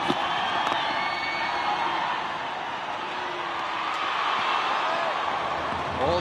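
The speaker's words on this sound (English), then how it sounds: "All the excitement already, the crowd's with it" A large crowd at a Twenty20 cricket match in the Caribbean roars and cheers continuously, a dense, sustained wash of excited voices filling the stadium with commentary running over the top.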